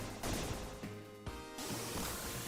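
Cannon fire from a double-decker cannon in the Shinobi III video game, a run of loud, sharp blasts and crashes in quick succession, dense and near.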